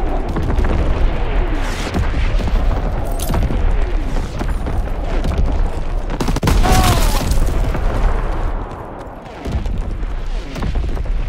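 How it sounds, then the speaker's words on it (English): Heavy enemy artillery shelling in Call of Duty WWII, a loud, continuous roar of booming explosions rumbling close by for the whole stretch with brief swells and dips. "Incoming enemy artillery!"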